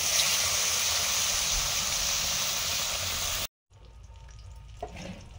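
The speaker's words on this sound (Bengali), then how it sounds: "মাছগুলো ভাজা শুরু করেছি।" Fish sizzling in hot oil in a pan, a loud steady crackling hiss that stops abruptly, followed by quieter kitchen clatter and faint bumps.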